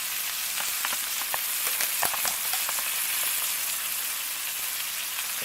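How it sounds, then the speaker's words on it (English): Steady, close sizzling and crackling of mushroom steaks frying in a hot pan, with scattered pops throughout. "You want it to sizzle up."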